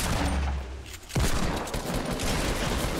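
Gunfire in the video game Fortnite: dense rapid shots roll on, pause briefly, then a sharp loud blast starts another burst of firing, with no speech over it.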